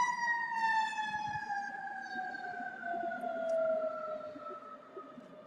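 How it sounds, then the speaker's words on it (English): A wailing emergency siren holds long, slowly falling tones as it passes, loud and steady with faint traffic rumble underneath. "maybe we'll wait until the sirens go by"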